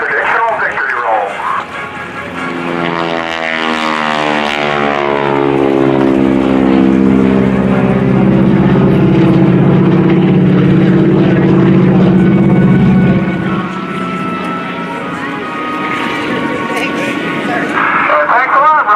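A T-6 Texan propeller airplane flying a victory roll over the 2018 NAS Oceana Airshow: a loud droning engine whose pitch sweeps down as it passes close, swelling for several seconds and then fading away.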